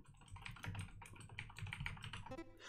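Fast, continuous clicking of keys on a computer keyboard, quiet and close, with uneven bursts of taps and no voices.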